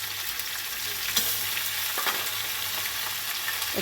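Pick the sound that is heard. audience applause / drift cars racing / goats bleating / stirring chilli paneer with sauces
stirring chilli paneer with sauces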